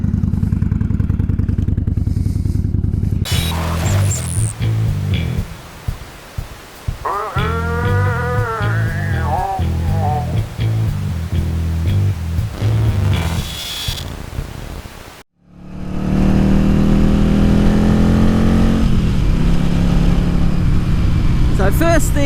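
A Yamaha XV750 Virago motorcycle ridden on the road, its engine droning steadily and loudly with wind rush, gear shifts and revving changes, a brief drop near the end before the engine noise returns.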